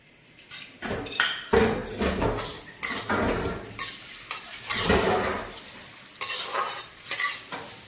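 Raisins fry in oil in a pan while being stirred, with bursts of sizzling and scraping that come in uneven waves, moderately close with no talk.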